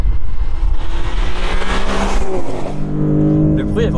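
Inside a Maserati GranTurismo Modena V6 rated at 490 hp, the engine drones loud and close, rising and easing through revs as a voice talks over it.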